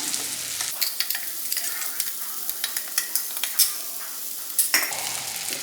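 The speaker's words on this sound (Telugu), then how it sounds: "వెల్లుల్లిపాయ ముద్ద ఇంకా కరివేపాకు కూడా మంచిగా ఫ్రై అయిపోయాయి" Garlic paste and curry leaves sizzling in hot oil while a spatula stirs and scrapes the pan in quick, irregular knocks.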